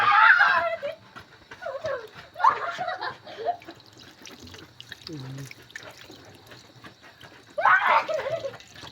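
Water poured into a Suzuki car, heard as intermittent splashing and trickling bursts between stretches of talking and a little laughter.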